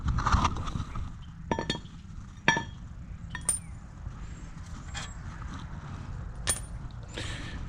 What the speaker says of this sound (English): Just like that, your caliper bracket comes off.